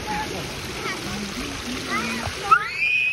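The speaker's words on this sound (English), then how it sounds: "Oh, water coming from there." Water sprays and splashes steadily at a kids' splash pad in Toronto, a continuous hiss close by, with children and adults talking over it.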